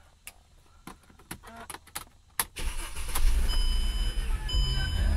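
A 2006 Mercedes-Benz CLK 350 starting up: a few clicks and key jingles inside the cabin, then the starter catches and the engine settles into a steady, close idle with a faint chime.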